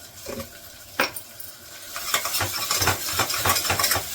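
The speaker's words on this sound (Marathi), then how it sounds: "असं छान तेल सुटतं मसाल्याला बघा लगेच होतं परतून" Spice masala sizzles in hot oil in a pan while a spoon scrapes and stirs it in repeated rhythmic strokes, close and fairly loud.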